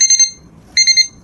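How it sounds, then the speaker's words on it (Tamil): A bear-shaped digital alarm clock beeps after one minute, two clusters of three or four quick, bright, close beeps separated by a short pause, with no talk. "உங்களுக்கு கரெக்டாக 1 நிமிஷம் முடிஞ்சோன்னா இந்த மாதிரி பீப் பண்ணுறேன்"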